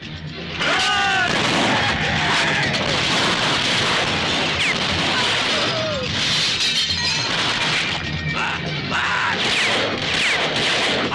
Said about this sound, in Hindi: इतनी फायरिंग हो रही थी